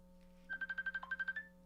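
A phone ringtone plays a quick run of about ten rapid electronic beeps in an even rhythm, fairly faint against a low steady hum.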